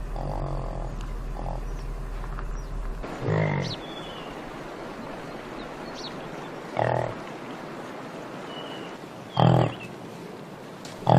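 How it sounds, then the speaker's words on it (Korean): Yaks, livestock that resemble cattle, give several short pig-like grunting calls out in the open, heard as brief separate bursts spaced a few seconds apart over a low, steady background rumble. "외모는 소를 닮았지만 특이하게도 울음소리는 돼지에 가까운 야크"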